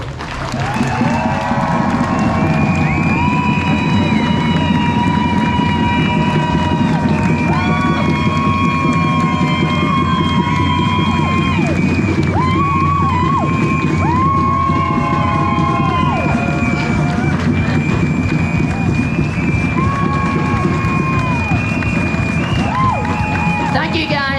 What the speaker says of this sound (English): So can we have a minute of applause for Nell McCafferty?